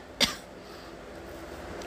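A person with a cold gives one short, sharp cough close to the microphone. A quiet pause follows.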